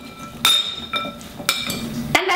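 Endive and apple salad being tossed with vinaigrette, with a utensil clinking against a bowl in a few crisp, irregular taps between quieter scraping.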